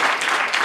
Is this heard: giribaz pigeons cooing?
no